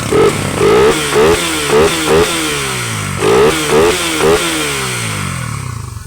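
Raider 150 Fi motorcycle engine running after a no-start fault, revving up and down in repeated bursts with clattery mechanical noise, close and loud.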